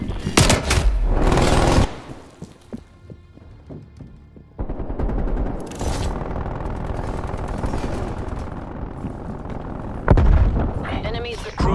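Sentry turret gunfire in Call of Duty Cold War, bursts of loud close automatic shots and heavy booms, with sustained rapid firing through most of the stretch and a voice over it.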